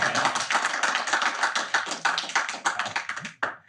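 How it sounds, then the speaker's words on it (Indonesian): A crowd applauding the comedian Komeng, dense close clapping that carries on steadily and cuts off sharply near the end. "Tepuk tangan buat Komeng"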